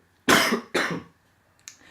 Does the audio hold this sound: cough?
yes